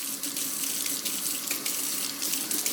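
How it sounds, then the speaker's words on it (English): A sink tap runs on high, water pouring and splashing steadily into the basin, close and continuous with no talking. "So let's just turn on the water, and we're just going to splash it while it's turned on"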